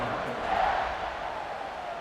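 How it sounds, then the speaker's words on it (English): Stadium crowd in the College Football 26 game, Baylor Bears vs Oregon State Beavers, cheering before a kickoff: a steady, dense roar that swells slightly midway and holds throughout. "this crowd now ready to get behind them"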